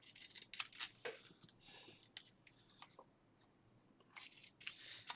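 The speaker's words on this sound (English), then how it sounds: "These are just some pinking shears" Pinking shears snip through paper in a quick run of short, crisp cuts near the microphone, followed by a pause and then a few more closely spaced snips.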